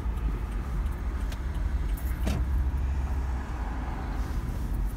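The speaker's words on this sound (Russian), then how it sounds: "Видите, тут как ездят люди, в три ряда машины стоят." Car traffic on a busy Philadelphia street near a market, with cars lined up three lanes deep: a steady, close engine and tyre rumble with one vehicle swishing past midway.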